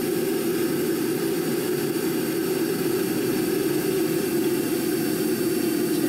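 An aircraft jet engine on a takeoff run in Kerbal Space Program gives a steady, loud roaring hiss with a low rumble, unchanging throughout with no voices.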